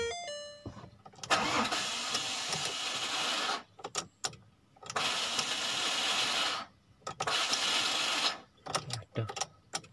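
A Ford Ranger double cab engine cranks and starts, with several loud close bursts of starter whir and engine roar broken by brief pauses, then settling into running.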